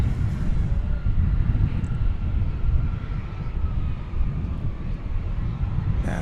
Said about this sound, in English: That's a 787-8, and it's going over to the east side for the departure to Italia.